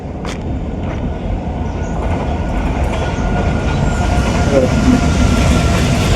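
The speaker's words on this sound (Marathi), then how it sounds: "मालगाडी आहे मालगाडी" Freight train rolling past nearby, a steady loud roar of wagons and wheels that builds slightly and holds throughout with faint clatter, close to the tracks.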